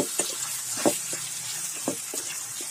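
Food frying in a kadai (wok) sizzles softly while a spoon stirs it, giving a few light scraping clinks against a steady hiss, close and quiet.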